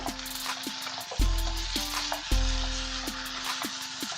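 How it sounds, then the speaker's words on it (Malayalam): Pepper chicken with curry leaves and coconut oil stirred in a hot pan, a continuous close sizzle broken by repeated scraping and clattering strokes of the spoon, loud and steady without speech. "നന്നായിട്ടൊന്ന് മിക്സ് ചെയ്ത് കൊടുക്കാം"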